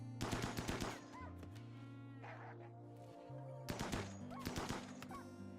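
Rapid bursts of automatic gunfire in the RimWorld video game, several clusters of shots over a steady game hum, fairly loud and up close.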